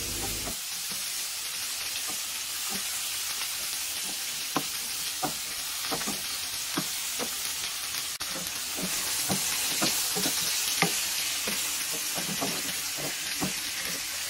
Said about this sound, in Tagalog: Tapos yung bawang, kamatis, saka sibuyas at ihalo pa ng mabuti.